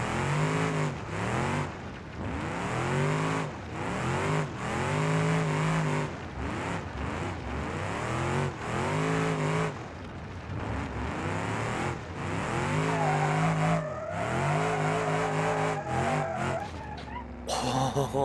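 A drift car in BeamNG.drive, engine revving hard and repeatedly in second gear with rising and falling pitch, tires squealing as it slides, loud and close throughout with brief drops between revs.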